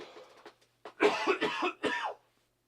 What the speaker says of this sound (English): haven't been able to shake off that cough for over a week.